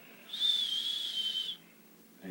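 A steady, high whistled tone held for about a second, imitating a mid-range test tone, then quiet.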